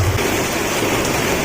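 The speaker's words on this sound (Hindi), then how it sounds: "वापस से बहुत ज्यादा ही तेज बारिश स्टार्ट हो गई है" Heavy rain pouring steadily outdoors along a road, a dense, even hiss of falling water with no voices.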